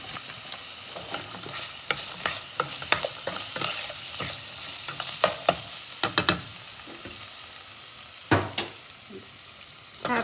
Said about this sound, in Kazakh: Енді араластырып берем.